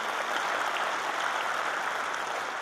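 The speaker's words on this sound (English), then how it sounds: "Yeah, you can clap for that." An audience at the 2023 inauguration of Illinois Governor J.B. Pritzker breaks into steady, dense applause that holds at an even level for the whole stretch, with no voices over it.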